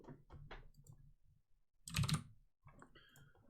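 Keys on a computer keyboard are tapped in a short run of close clicks, with a pause and then a louder cluster of strokes near the middle before a few lighter taps, all in quiet surroundings.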